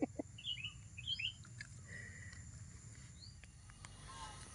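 A sooty-headed bulbul chirps in short bright notes, a few quick calls near the start and one later, fairly close but faint, over a low background hum.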